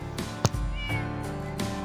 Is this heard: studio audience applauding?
no